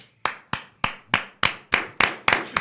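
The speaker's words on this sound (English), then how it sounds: "Why are you clapping?" Eight sharp hand claps in a steady, slightly quickening rhythm, each crisp and close with a short room ring, no talking over them.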